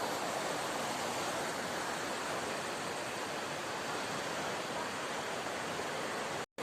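Floodwater from a flash flood in the hills at Karuvarakundu roars in a steady, dense broadband rush, loud and continuous with no voices, cutting off abruptly at the very end.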